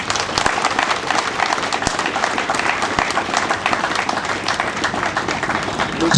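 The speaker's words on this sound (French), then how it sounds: "Je commencerai donc par des applaudissements à votre endroit." An audience at a grader presentation event in Congo-Brazzaville breaks into steady, sustained applause, many hands clapping in a dense, continuous patter at a moderate distance for several seconds, with faint murmuring beneath it.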